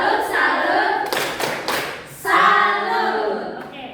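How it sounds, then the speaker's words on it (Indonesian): A class in an Indonesian primary social studies lesson claps hands together in brief, brisk bursts, with voices heard before and after. "tepuk tangan. Oke, tepuk salut untuk kita semua"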